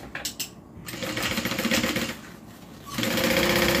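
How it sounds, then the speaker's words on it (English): A sewing machine stitching along the side seam of a fabric bag, a close, loud mechanical whir that starts after a few clicks, pauses briefly, then runs steadily again. "just going to sew along the side."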